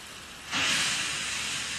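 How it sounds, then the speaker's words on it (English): Steam locomotive letting off steam: after a brief quiet moment a loud, steady broadband hiss bursts out and holds at a constant level, close and alone. "Then, when Thomas let off steam, Diesel sniffed loudly."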